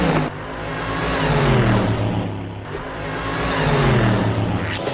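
A moving truck travelling at about 20 miles an hour, its steady engine drone and tyre rumble loud and close, rising and falling slightly as it drives with no talk.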